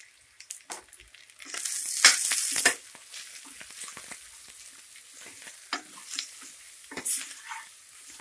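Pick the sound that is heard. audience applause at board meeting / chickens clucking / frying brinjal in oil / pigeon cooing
frying brinjal in oil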